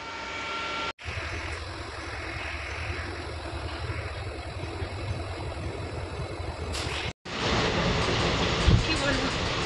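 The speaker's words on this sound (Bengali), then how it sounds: "ট্রেন ছেড়ে দিয়েছে।" Passenger train running steadily after leaving the station on the way to Kamakhya, a continuous loud rumble and rattle heard from inside a coach, with brief gaps in the sound.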